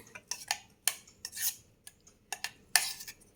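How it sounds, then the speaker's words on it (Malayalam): Butter and sugar mixture being scraped into a mixer jar: a series of sharp metallic clinks and scrapes of a spoon against the jar, irregular and close, with quiet gaps between them. "മിക്സിയുടെ ജാറിലോട്ട് മാറ്റാം."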